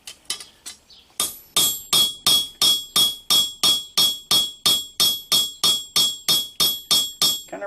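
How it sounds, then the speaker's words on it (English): Steady, evenly spaced hammer blows peening the pins of a fillet knife handle, about twenty ringing metallic taps close by after a few lighter strikes at the start. "Kind of rock your hammer and get that thing mushroomed over."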